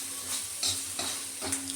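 Egg bhurji cooking in oil in a home kitchen pan, a steady sizzle with repeated scraping stirs of a spatula at a regular rhythm, close and fairly quiet, with no voices.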